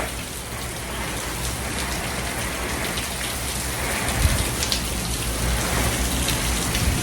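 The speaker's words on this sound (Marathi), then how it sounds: "आमच्या इथे इतकं जोरात पाऊस पडायला आहे" Heavy rain pours steadily, a dense continuous hiss of drops on surfaces with a low rumble underneath, loud and close throughout.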